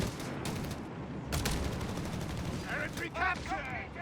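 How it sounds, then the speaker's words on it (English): Sharp gunfire bursts from a sniper in Company of Heroes 3, a World War II strategy game, with a few loud cracks amid constant battle noise and a commentator talking over the action. "Sniper lands another hit here."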